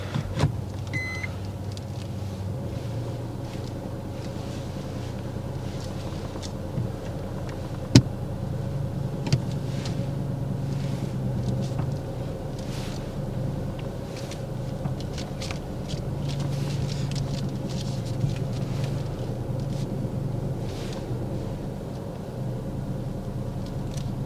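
A car reverses out of a parking space during a driving test, heard from inside as a low steady engine hum with a few light ticks and one sharp click partway through, and no talking.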